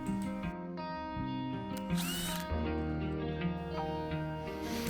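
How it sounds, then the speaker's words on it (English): A power drill bores through the plastic discharge chute of a lawn mower, a steady whining hum with shifting pitch, close and continuous, with no talking. "It's really easy to drill through the plastic that the chute's made out of."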